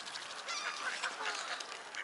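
Ducks on an island give a quick burst of honking calls, several close birds overlapping in a continuous nasal chatter.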